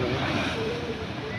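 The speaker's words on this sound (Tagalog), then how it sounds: "ang lalaki ng mga alon, mahampas po dyan." Large waves surging against the shore behind the General MacArthur monument in Palo, Leyte form a steady, loud, broadband roar of surf with wind noise, with no pause throughout.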